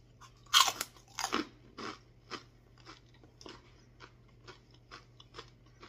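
Homemade pork rinds, fried in an air fryer and a deep fryer, are eaten close up. Two loud crunching bites are followed by a run of softer, rhythmic crackly chewing.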